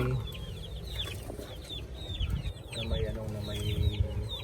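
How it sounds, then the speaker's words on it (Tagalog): Week-old chicks with fowl pox chirp repeatedly in high, rapid peeping bursts, close and fairly clear over low background rumble and some handling noise. "kukunin na natin isa-isa yung sisiyo"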